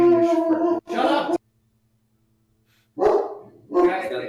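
A dog barks loudly and close by in two bursts, a quick pair of barks, then silence for over a second, then more barks.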